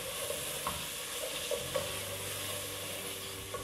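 Masala and semolina (rava) roast in a pan for dal keema, a quiet, continuous sizzle broken by soft scraping strokes as a spoon stirs the mixture.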